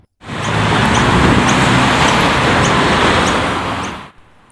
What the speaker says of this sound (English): The surrounding roads are accessible for vehicle movement, which makes the traffic noise inevitable